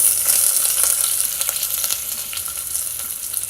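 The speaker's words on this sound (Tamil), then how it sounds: "இப்போ எண்ணெய் நல்லா சூடானதும் நம்ம வந்து ஒரு பிரிஞ்சி இலை, 2 ஏலக்காய், 2 கிராம்பு" Hot oil sizzles and crackles steadily with light popping, close by, as a bay leaf, cardamom and cloves fry for beetroot pulao, with occasional stirring sounds.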